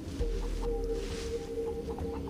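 Chicken clucking in the video game Far Cry 3, a few short clucks over a steady low in-game ambient hum, moderately loud and close with no talking.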